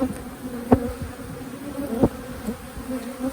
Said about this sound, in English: So there's a lot of bees in here from that cutout.